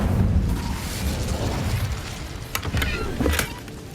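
Incendio fire spell cast in Hogwarts Legacy, a rushing, roaring burst of flame with rumbling low end, followed by a few sharp crackling pops, loud and close.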